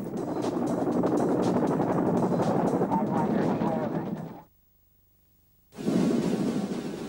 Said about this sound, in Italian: I primi elicotteri usati in Vietnam erano ancora quelli con motore a pistoni.